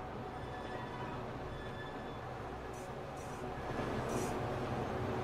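Trains run along tracks in the video game Transport Fever, giving a continuous low rolling rumble with faint high squeals briefly breaking through partway, and the sound swells slightly louder near the end.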